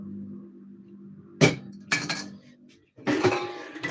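Metal kettles and pots in a home kitchen are handled and set down, giving sharp clanks and clinks in three separate bursts, close by and fairly loud against a quiet background.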